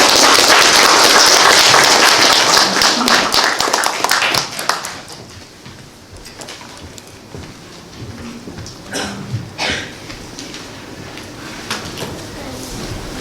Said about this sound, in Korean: 그럼 한시준 선생님을 박수로 맞아주시기 바랍니다.